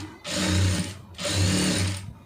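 Two bursts of a sewing machine stitching the edge of a cotton blouse, each a steady whirring run of about three-quarters of a second, close and fairly loud with a short pause between.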